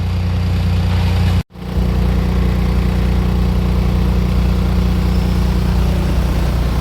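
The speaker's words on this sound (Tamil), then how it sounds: "இப்போ பார்த்தீங்கன்னா இவ்வளோ வண்டி நிற்குது டிராஃபிக் ஜாம்" A steady low engine idle drones close by, continuous and even, with one brief dropout near the start.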